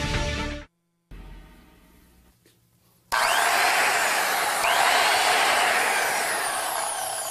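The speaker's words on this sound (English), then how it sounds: "Now this is my idea of a power tool." After a quiet opening of brief tones and a pause, a power tool starts abruptly and runs steadily with a loud, dense whir that holds constant to the end.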